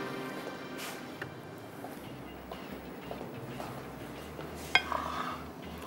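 A platter handled in a home kitchen while making saffron chicken curry, with soft clinks and scrapes of dishware, then one sharp clatter as it is set down, followed by brief rattling.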